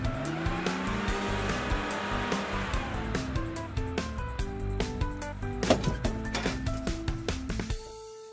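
A toy sports car races along a mountain-ridge play track, producing a sustained whirring drone with rapid clicks and sharp skidding ticks that grow denser toward the end before cutting off.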